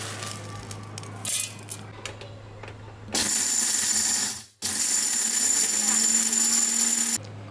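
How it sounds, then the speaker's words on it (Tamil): A mixer grinder jar pulverises dried mango into powder: a few light clatters, then two long, loud, high whirring runs split by a brief pause, close and dominant. "இப்போ இதை நம்ம நல்லா நைஸாக அரைச்சிப்போம். ஜாரில் போட்டுக்கலாம்."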